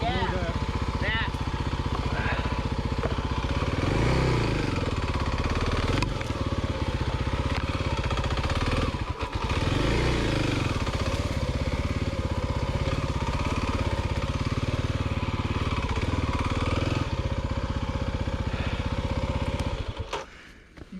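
A geared-down Kawasaki KLX300 dirt bike engine runs and revs steadily in the woods, a loud continuous motor drone with rising pitch swells, under occasional talk, cutting off near the end.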